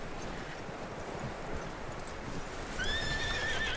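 A horse in the video game Red Dead Redemption 2 clip-clops steadily at close range, then lets out a bright whinny near the end over the ongoing hoofbeats.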